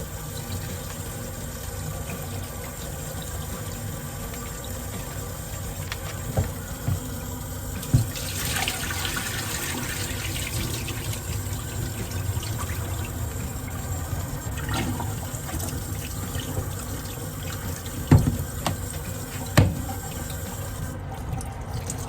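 Tap water runs steadily as raw steak is rinsed under it with vinegar, a continuous close splash with a few small clatters and no speech.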